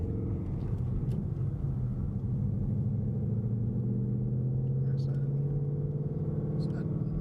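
A 2015 Ford Mustang 5.0 V8 with an MBRP 3-inch catback exhaust holds a steady, deep, throaty rumble that stays even throughout with no sharp revs, heard from nearby.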